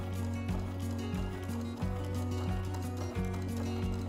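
A sewing machine stitching fabric while sewing appliqué Y-seam patches, a steady close motor hum broken into regular pulses as the needle runs, with no talk.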